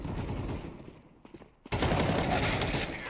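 Dense, rapid gunfire from a shooter video game, with an M4 rifle in play, roars loud and continuous, drops into a brief quieter gap with scattered shots, then bursts back into sustained heavy firing.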